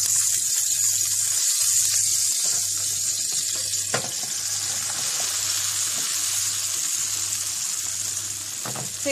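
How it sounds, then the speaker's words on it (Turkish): Cornmeal-coated fried bean pickle sizzling in oil over low heat, a steady close crackle and hiss with a faint rhythmic hum and a couple of sharp clinks. "Aynı şekilde altının da kızartması için kısık ateşte kızarmaya bırakıyorum şimdi tekrar."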